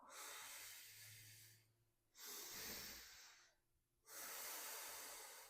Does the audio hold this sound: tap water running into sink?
no